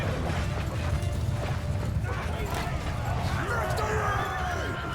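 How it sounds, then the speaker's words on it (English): A horse whinnies amid a Mount & Blade II Bannerlord battle, rising over a dense, steady din of combat with clattering mechanisms and scattered impacts, no clear talk. "Oh, horse."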